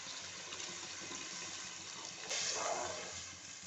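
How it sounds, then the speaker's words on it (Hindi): Yakhni stock is poured into rice for Mughlai pulao, a soft continuous liquid gush that swells briefly louder near the end, close and alone. "अब यखनी डालनी है।"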